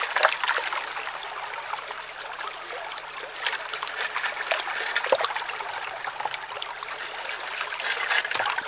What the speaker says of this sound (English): Those big rocks just roll right down.